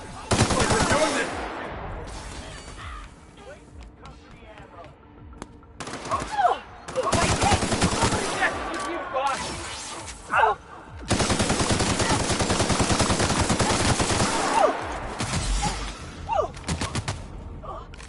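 Long bursts of rapid automatic gunfire rattle through a firefight in The Outer Worlds, separated by brief pauses, with shouted voices and scattered single shots between the volleys.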